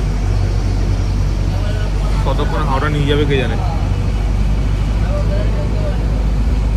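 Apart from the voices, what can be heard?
bus ride from Sealdah to Howrah, engine and traffic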